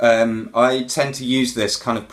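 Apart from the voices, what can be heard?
No everyday noise stands out behind the speech.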